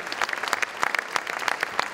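Applause from an audience gathered at a rugby league club tribute event, a steady patter of many hands clapping at moderate volume with no voices over it.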